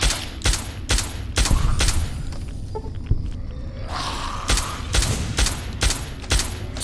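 Loud, rapid rifle shots ring out in a steady volley in Fallout: A Tale of Two Wastelands, a brief gap in the middle before the firing resumes, with no talk over it.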